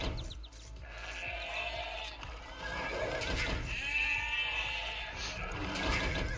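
Sheep in Age of Empires II bleating in several short, wavering calls, moderately close, over quiet game ambience with faint clicks.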